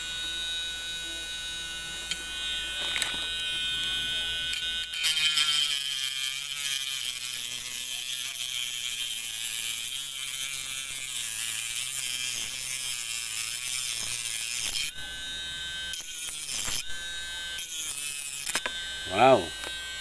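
A mini electric cutting tool runs with a steady motorized whine and buzz, holding a constant tone for most of the stretch, with brief pauses and shifts near the end.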